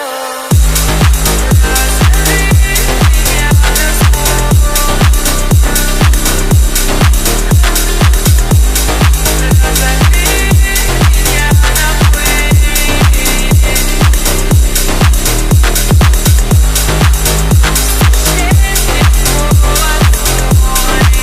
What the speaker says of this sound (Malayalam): അഞ്ചാമത്തെ കിക്കിൽ വണ്ടി സ്റ്റാർട്ട്.